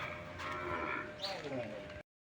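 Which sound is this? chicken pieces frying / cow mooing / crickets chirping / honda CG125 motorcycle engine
cow mooing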